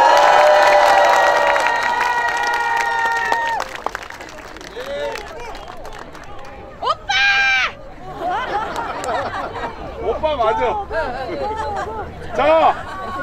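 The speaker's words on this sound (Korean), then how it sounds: "대표님 오셨습니다. 박수!" A rally crowd on the station plaza at Yatap, Seongnam, cheers and applauds while awaiting a party leader. The loud, sustained crowd noise carries tonal sound early on, with shouting voices throughout.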